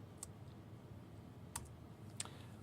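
A few quiet, separate key clicks on a computer keyboard in a compositing software session, three soft taps spread out over a faint room hum.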